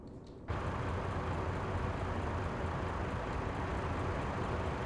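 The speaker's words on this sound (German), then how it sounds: "so klingt also ein Iveco" In Euro Truck Simulator 2, an Iveco truck's diesel engine starts suddenly after a brief quiet moment and then runs as a steady, faint, broad drone, with no talking.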